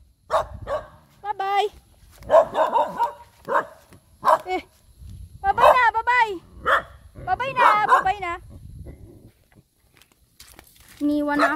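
A neighbour's dog outdoors on a farm with native chickens, barking in repeated sharp yaps and short bursts mixed with whimpering yips, close and loud, interleaved with a person talking.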